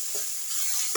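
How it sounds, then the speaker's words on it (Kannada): Okra fries in a pan with a steady, close sizzle and a couple of soft scraping stirs. "ಇವಾಗ ಇದು ಚೆನ್ನಾಗಿ ಫ್ರೈ ಆಗಿದೆ"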